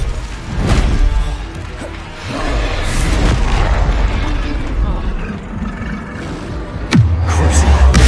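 A Confringo spell blast in Hogwarts Legacy, loud booming explosions and crashes bursting repeatedly amid heavy combat noise, with a voice calling out over the chaos.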